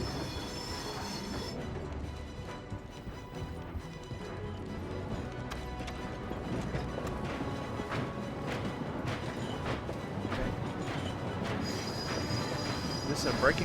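In the video game Medal of Honor: Above and Beyond, a moving train brakes with a continuous heavy rumble and rattling wheel clatter, layered with metallic squeals and knocks.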